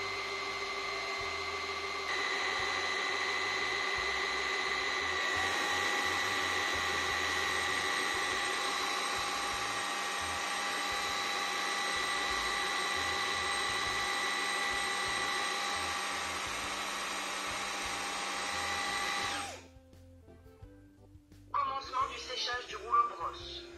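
A Jimmy PW11 Pro Max wet vacuum runs its self-cleaning cycle, a steady, loud motor hum with a high whine that holds for about twenty seconds, then cuts off, leaving a few faint clicks and rustles.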